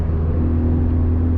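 A budget turbocharged hot hatch cruising in fifth gear at low revs gives off a steady, low engine grumble and road rumble heard from inside the cabin, even and unbroken throughout.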